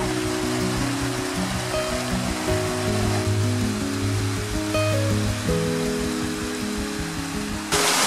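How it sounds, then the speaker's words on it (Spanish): A hot spring stream in Fiambalá, Catamarca, Argentina, flowing steadily with a dense, continuous rushing and gurgling of water heard up close and fairly loud, with no talking over it. "Vamos a subir para ver desde dónde viene el arroyo y si el agua es muy caliente más arriba."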